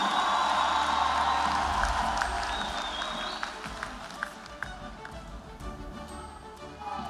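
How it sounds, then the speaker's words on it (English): Applause from a commencement audience for graduating candidates of a School of Mathematics, Science and Technology: dense clapping from a crowd that thins and fades over several seconds, with a few louder claps near the end. "I invite a round of applause for the candidates for the School of Mathematics,"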